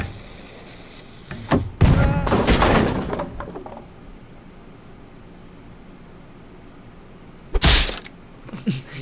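Cannon effects from the game Henry Stickmin Collection: a loud crashing burst with rumbling debris, a quieter stretch of low noise, then a second sharp crash near the end, with no talk over it.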